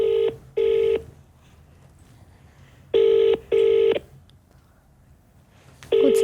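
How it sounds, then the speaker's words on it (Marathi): A mobile phone on speakerphone rings out on an outgoing call, giving loud paired ringback tones three times with quiet pauses between them. No voices are heard. "हा. स्पीकरवर ठेव."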